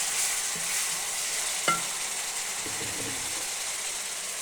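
Masala fries in a pan for Lahori chana, a steady soft sizzle with a brief scrape and clink of a stirring spoon partway through.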